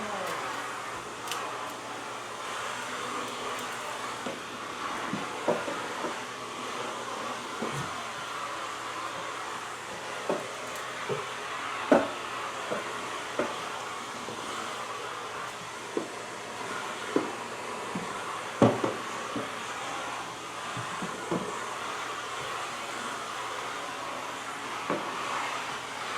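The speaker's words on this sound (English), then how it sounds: "How do you think of the vacuum cleaner? It's so much nicer than the other one." A household vacuum cleaner running steadily, a continuous broadband whir with irregular bumps and thuds as it is pushed across the floor.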